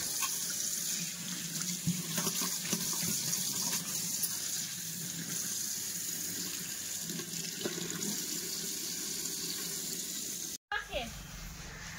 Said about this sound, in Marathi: नळाला पाणी पण आलंय